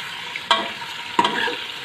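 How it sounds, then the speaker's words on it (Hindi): Chicken for a karela dish fries over medium-high flame, a close sizzle broken by two quick spatula scrapes across the pan. "और इसे भूनते हैं अच्छी तरह से, और फ्लेम जो है वो मीडियम हाई कर देते हैं।"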